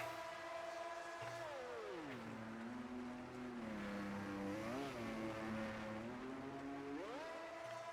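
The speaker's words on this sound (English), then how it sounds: "Attempts at donuts being done there." A race car in a racing video game attempts donuts, its engine droning steadily with pitch swooping down, wavering, then climbing again as it spins, heard fairly faintly and without talk.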